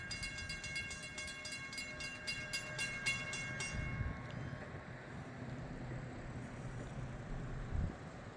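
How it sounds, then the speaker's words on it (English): A distant train rumbles past a crossing in Florida with a steady low roar, while a crossing bell rings rapidly at first and then fades out. "It looks like those trains are passing each other."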